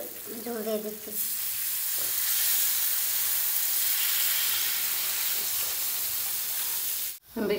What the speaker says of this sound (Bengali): ভাজা হয়ে আসছে, এখন ঝোল দিয়ে দিচ্ছি।